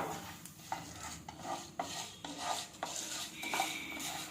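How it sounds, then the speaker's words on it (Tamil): Chana dal and urad dal roast in oil in a pan over low heat. A spoon stirs in a regular rhythm, with close scraping strokes about every half second over a soft, low sizzle. "கடலப்பருப்பும் உளுந்த பருப்பும் நல்லா வறுபட்டுருச்சு பாருங்க நல்லா பொன்னிறமாக மாறிடுச்சு"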